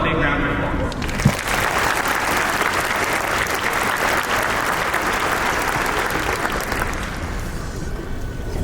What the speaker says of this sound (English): Please give both our family and ourselves a big round of applause.